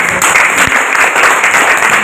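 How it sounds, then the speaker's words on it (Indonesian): Students in a classroom clap together in a short, loud burst of dense applause close to the recorder, lasting about two seconds. "Tepuk tangan dulu."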